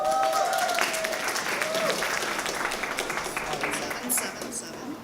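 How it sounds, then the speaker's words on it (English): Sustained audience applause welcoming a panel at a cannabis summit in Las Vegas, a dense even wash of clapping throughout with a voice speaking over it early on. "Give them a round of applause."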